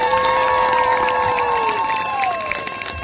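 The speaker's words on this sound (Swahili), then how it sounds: "Nitawapokea na vigelegele mingi sana." A crowd at an outdoor public meeting in North Kivu cheers and ululates loudly, with long high sustained trilling voices gliding downward over a steady roar of shouting and clapping.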